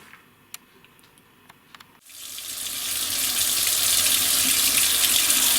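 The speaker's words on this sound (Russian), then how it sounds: "Вот идет струя воды" Water from a tap starts suddenly after a few soft ticks and clicks, then runs in a steady, close hiss, as if filling or rinsing in a sink while orchid roots are being washed.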